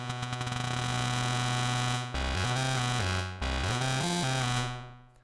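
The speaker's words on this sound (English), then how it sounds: "that's how I got that really gritty distortion effect for that" A gritty, distorted synth line from a Nord Lead 2X arpeggiator repeats a rapid pulsing note, stepping between a few pitches; loud, buzzy and continuous, with no voices.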